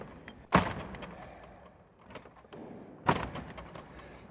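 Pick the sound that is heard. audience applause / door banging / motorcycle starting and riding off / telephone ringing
door banging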